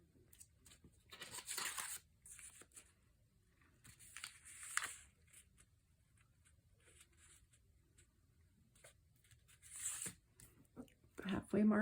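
Scissors cut through a sheet of wallpaper for a junk journal in short, intermittent snipping and rustling bursts, close and fairly soft, with quiet pauses between cuts.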